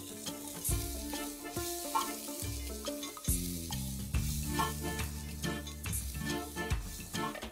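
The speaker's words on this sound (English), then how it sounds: "Turmeric powder and chili powder, and I'm going to saute this for a minute." Pav bhaji masala, turmeric and chili powder sauté in a hot pan with a close, crackling sizzle and repeated stirring scrapes. A tonal background melody plays underneath.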